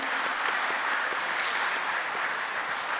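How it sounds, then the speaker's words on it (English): Applause for Hall of Fame inductees at a 2021 induction ceremony, an even, steady wash of many hands clapping at moderate volume throughout. "One more round of applause for all of our inductees today."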